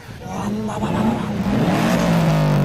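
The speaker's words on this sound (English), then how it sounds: "It's the sound of everyone revving their tits out the cars." Loud car engines rev and roar continuously, several overlapping, with rising and falling pitch throughout.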